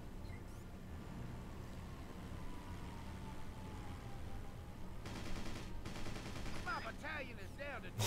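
Gunfire from the Battalion Wars video game as a Xylvanian grunt is shot, rapid bursts of shots mixed with steady engine-like game background, fairly faint and continuous throughout.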